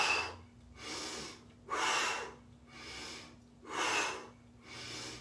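Breathing exercise with slow, deliberate breaths: five audible airy exhales and inhales in an even rhythm, close and fairly quiet against a low background hum.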